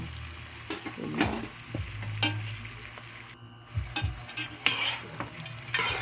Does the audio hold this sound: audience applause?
no